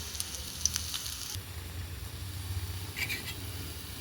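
Rui fish kofta balls frying in oil, a soft continuous sizzle and crackle with a few brief ticks and spatters, close and fairly faint, no talking.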